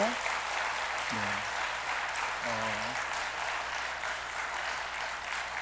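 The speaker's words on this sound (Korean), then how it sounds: "성도 여러분들께서는 박수로 환영해 주시기를 바랍니다." Church congregation claps to welcome the newly baptised during a Sunday service, a fairly faint, even patter of applause continuing throughout, with a few brief spoken voices over it.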